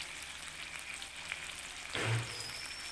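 Spice masala with yogurt frying in a pan for Lahori chicken, a soft steady sizzle at low volume, swelling briefly into a louder hiss about two-thirds of the way through.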